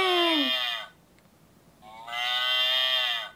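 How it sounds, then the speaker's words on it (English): A cow moos twice, long and drawn-out, with a short quiet gap between the calls. Both are loud and close, with nothing else over them. "You said in, and the cow mooed."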